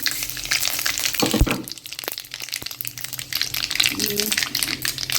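Curry leaves and white sesame seeds sizzle loudly in hot oil with mustard seeds, a steady close frying hiss broken by sharp pops and crackles as they hit the pan.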